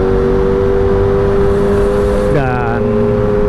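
A Kawasaki ZX25R motorcycle ridden along a city road at night, its engine droning steadily and loudly before the revs climb sharply with a rising whine near the end.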